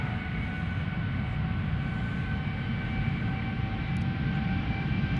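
An Airbus A350 jet approaching Schiphol Airport, heard as a steady, continuous low engine roar with a faint whine on top, fairly distant and unbroken, with no voices.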